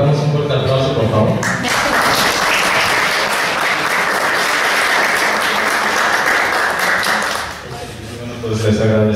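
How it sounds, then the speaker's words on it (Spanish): An audience at a keynote lecture in Mexico breaks into loud, sustained applause that swells and holds for several seconds before fading, with speech just before and after. "le damos un fuerte aplauso,"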